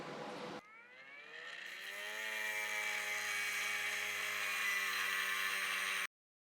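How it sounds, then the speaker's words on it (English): A power tool cuts through a piece of a Porsche 356 window regulator, a loud, steady high-pitched whine and grind after a short burst of noise, running for about five seconds before stopping abruptly. "So I'm going to trim that piece down just to be on the safe side."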